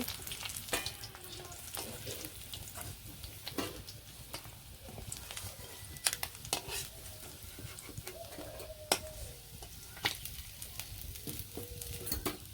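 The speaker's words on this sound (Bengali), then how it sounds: "ওই পাশে মাছ ভাজি হইতেছে" Fish fries in a pan with a faint, continuous sizzle and scattered soft crackles and pops, with no clear talking.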